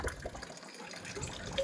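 Water runs from a tap in a steady, fairly soft splashing hiss with small irregular gurgles, close by and with no voices.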